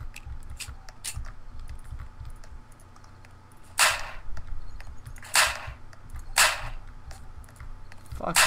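Gunshots in the video game Apocalypse Rising, three loud sharp single shots spaced a second or two apart, with rapid keyboard and mouse clicking in between over a low background hum.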